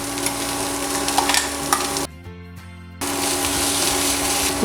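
Broad beans and onion sautéing in a pan give a close, steady sizzle with stirring scrapes, cut by a sudden near-silent gap of about a second before the frying resumes.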